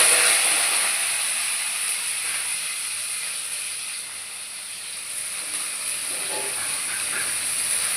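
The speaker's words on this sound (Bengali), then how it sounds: "করলাটা ভালো করে ভেজে নিয়ে তারপরে একে একে সমস্ত সবজি ভেজে নেব" Sliced bitter gourd frying in hot oil in a home kitchen, a loud, steady bright sizzle and hiss that holds throughout with little variation and no talking.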